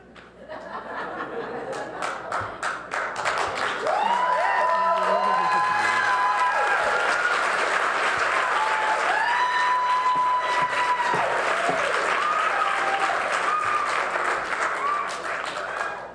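An audience at a city council meeting bursts into applause with some cheering and laughter, swelling after a few seconds and holding loud; a voice and tonal sounds rise above the crowd.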